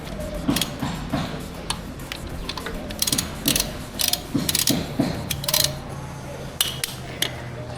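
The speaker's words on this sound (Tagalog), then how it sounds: "gagamit tayo ng ratchet na may size 17 para baklasin yung bolt" A size 17 ratchet loosens the oil drain bolt on a 450SR motorcycle during an oil change, giving off a steady run of close, crisp ratcheting clicks in uneven bursts.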